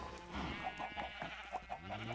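Sheep in a farming video game bleat several times in short repeated calls, moderately loud over a steady background of game music and ambience, with no talking.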